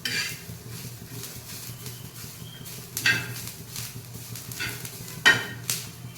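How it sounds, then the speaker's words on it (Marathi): Masala spices roasting in a pan for a fish curry, a soft steady sizzle under brisk stirring, with two sharp metallic clinks of a spoon against the pan standing out, close by and free of talk. "बघा अशा प्रकारे आपला हा मसाला आता भाजून झालेला आहे"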